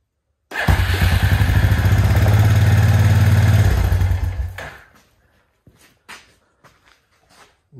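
A vehicle engine cranks and catches, then runs loud and steady for a few seconds before cutting off, followed by scattered clatter and thumps nearby.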